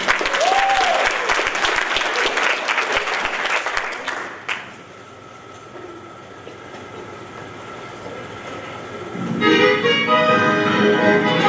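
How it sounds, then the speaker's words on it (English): Loud, dense applause for a youth ministry member fills the first four seconds, then cuts off into a quieter stretch with a steady tone before a louder, harsher noise swells near the end. "So another round of applause for Ryan"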